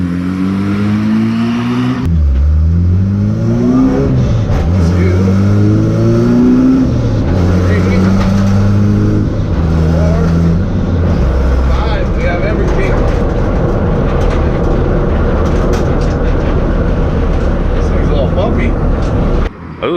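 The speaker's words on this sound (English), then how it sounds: "it sounded like it went through all the gears just great" A Honda Civic revs up hard and shifts through its gears, the engine note climbing, dropping at each change, then climbing again in a loud, continuous run with road noise beneath and a voice speaking over it.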